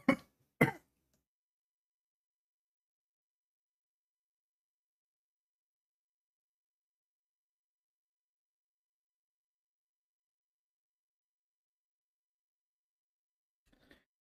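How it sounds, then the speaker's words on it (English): Two hard, sharp coughs burst out close to the microphone in quick succession, followed by long silence and a faint rustle at the very end. "Sorry, I had to mute the microphone. I had to cough hard."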